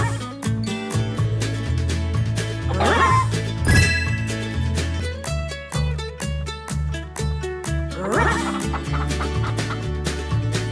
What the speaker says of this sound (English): Find all the chickens and bring them back to the coop.